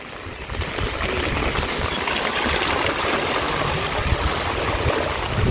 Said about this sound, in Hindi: ये देखो कितना पानी बह रहा है